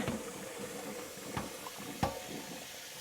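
Cold tap water pouring over drained cooked rice for Afghani pulao, a steady splashing rush throughout with a few sharper splashes, close and moderately quiet, no talk.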